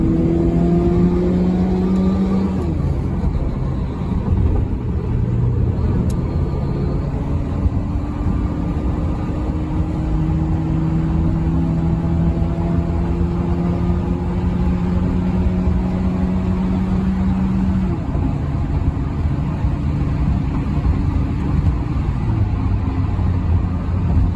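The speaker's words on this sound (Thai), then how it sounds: "เราต้องไล่ตามไปเพื่อทดสอบเกียร์ครับ" A Honda Jazz GE8 V hatchback drives steadily as gears are shifted, its engine hum rising in pitch and dropping at each change, with continuous road and wind noise throughout and no talking.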